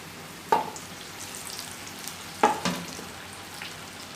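Potato onion pakoda balls dropped into hot oil for deep frying, with two distinct splashy plops followed by a steady bubbling sizzle.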